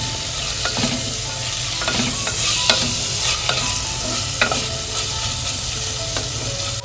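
Tomatoes being stirred into sautéed onions in a hot pan, a continuous loud sizzle with repeated scraping and clattering stir strokes from a spatula, close by and alone without voices.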